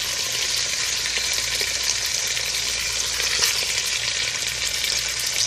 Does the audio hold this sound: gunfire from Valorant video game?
no